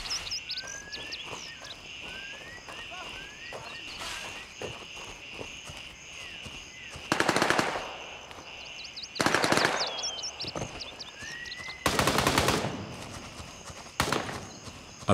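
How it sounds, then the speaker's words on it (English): Gunfire in a shooter video game near a village and cornfields comes in several dense bursts a couple of seconds long. Fainter scattered shots and clatter fill the gaps, and no one speaks. "As we get closer to the bigger village, the shooting intensifies."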